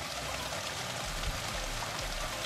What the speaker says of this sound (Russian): Видите, вода течет.